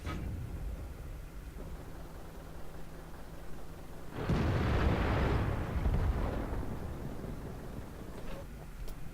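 A tank gun fires in the World of Tanks video game, one sharp heavy blast followed by a rumbling decay lasting a couple of seconds, loud and close over steady engine-like background noise.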